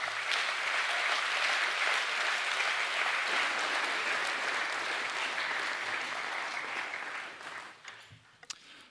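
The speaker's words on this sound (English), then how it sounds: "Could we give them a round of applause" Enthusiastic applause at a school co-curricular awards ceremony, a dense sustained clapping from a large audience that holds steady for several seconds and then tapers off into a few scattered final claps.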